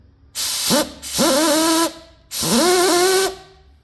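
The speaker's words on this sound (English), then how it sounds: "It will just spray resin?" A Glascraft chopper gun sprays resin in two long, loud hissing bursts with a rising mechanical whine, separated by a short gap, close and with no talk.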